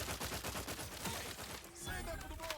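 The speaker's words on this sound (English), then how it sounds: "So the assault rifle is... it's okay. It uses a lot of ammo though." Rapid bursts of assault rifle fire in the video game The Outer Worlds 2, a quick rhythmic string of shots for about a second and a half, then trailing off into game sounds, quiet overall.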